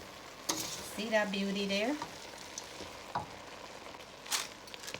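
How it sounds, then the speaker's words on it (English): Kitchari being stirred in a cooking pan, a soft scraping and sizzling mix with a few short bursts under a brief spoken comment near the start. "We're gonna give this a mix."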